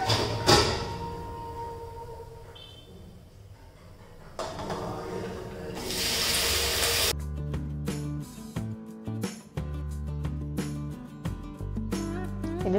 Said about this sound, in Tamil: இது சாப்பிட்டு முடித்த பாத்திரம் எல்லாம் செகண்ட் ரவுண்ட் ஒரு தடவை வாஷ் பண்ணி வச்சுடுவேன்.